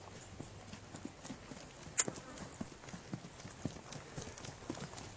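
A horse walks under a rider during a riding lesson, its hooves giving a soft, regular clip-clop with one sharper strike near the middle, fairly distant and faint.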